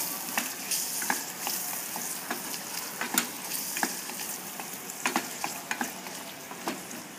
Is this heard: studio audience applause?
no